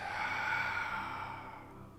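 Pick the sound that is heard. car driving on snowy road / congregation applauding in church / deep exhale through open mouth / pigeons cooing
deep exhale through open mouth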